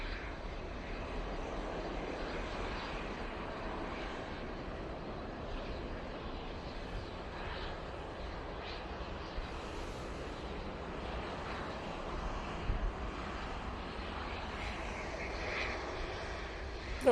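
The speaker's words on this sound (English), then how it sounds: "We've got the prop. It's going off to Belfast." A propeller aircraft departs Manchester Airport bound for Belfast, giving a steady, distant engine drone and rumble with no one talking.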